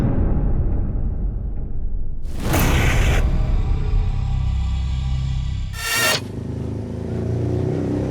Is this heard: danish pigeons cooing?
no